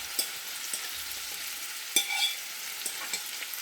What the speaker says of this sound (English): I now add my saltfish